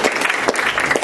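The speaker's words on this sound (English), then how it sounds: "We can applaud them." Audience applause at a second-grade school winter showcase, a dense steady clapping from a seated crowd that fills the short moment at a loud, even level with no talking.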